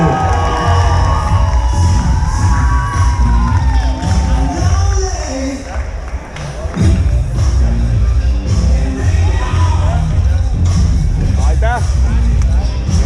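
A loud crowd cheers, claps and whoops at the Tartu Superenduro 2022 awards, with children shouting and high whistles or horns cutting through the continuous noisy hubbub.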